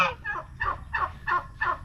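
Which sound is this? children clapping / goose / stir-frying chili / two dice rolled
goose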